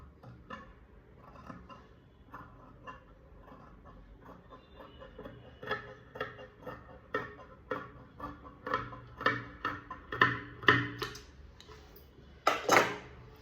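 Scissors cut blouse fabric straight along a marked line, giving a series of crisp snips and clicks that grow louder and denser, with a sharper burst of cuts near the end; no talking.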